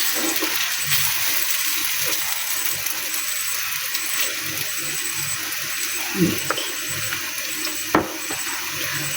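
Food frying in about one and a half spoons of ghee in a pan over a low flame, a steady close sizzling hiss with a few soft clinks and knocks, no talk over it.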